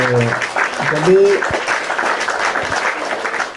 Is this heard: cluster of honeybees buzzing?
no